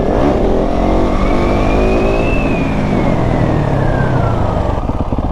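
A motorcycle accelerating hard in second gear for a wheelie, its engine loud and close, the note climbing steadily, then easing back down near the end, with no voices.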